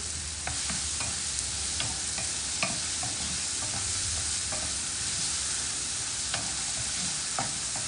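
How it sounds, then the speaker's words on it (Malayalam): Ripe Nendran bananas frying and softening in ghee in a non-stick pan: a steady, close sizzle runs throughout, punctuated by light spatula scrapes and taps at irregular intervals, with no voices. "നെയ്യിൽ കടന്നിട്ട് ഇതൊന്ന് വാടുകയാണ്"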